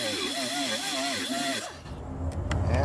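Power tool cutting through welding rod for antenna elements and throwing sparks, a whining grind with wavering pitch that cuts off and gives way to a lower, louder mechanical rumble, fairly close.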